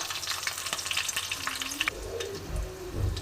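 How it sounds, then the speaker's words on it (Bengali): Black cumin seeds and slit green chillies fry in hot oil with a steady, close sizzle and crackle, a few utensil scrapes and stirring clatters joining toward the end; no one speaks. "দেখো বন্ধুরা এবার আমার কালো জিরা লঙ্কাটা ভাজা হয়ে গেছে"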